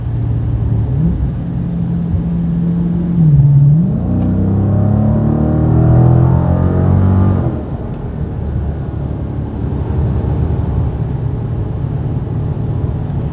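Dodge Challenger 1320 drag car engine revving hard while driving, a loud close rumble that climbs in pitch through several surges and then settles into a steady cruising drone.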